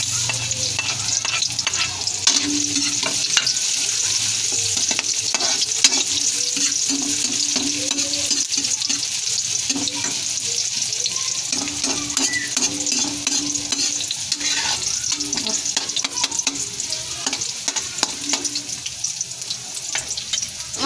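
Tilapia sautéing with onion and garlic in a pan for sarsiadong tilapya: continuous close, loud sizzle and bubbling oil with frequent scraping and stirring throughout, no voices.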